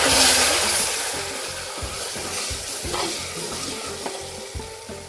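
Mutton sizzles and fries in a hot pan, a steady crackling hiss with occasional stirring scrapes, close and loud with no talk over it.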